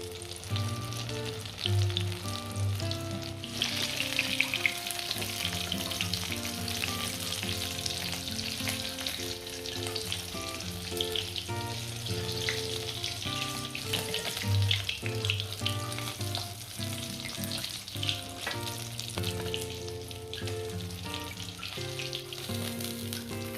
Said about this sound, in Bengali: 5 মিনিট ধরে আমি একদম লো ফ্লেমে রেখে ভালো করে উল্টে পাল্টে আমি এগুলোকে ভেজে নিয়েছি।